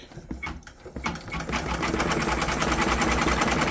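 An embroidery machine stitching through two layers of backing and canvas starts with a few slow stops and starts, then settles into a fast, steady, loud rhythmic clatter of needle strikes.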